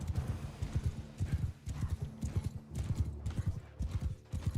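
Horse hooves clip-clop in rapid galloping bursts in the video game Mount and Blade 2: Bannerlord, loud and close, with brief gaps between runs of hoofbeats.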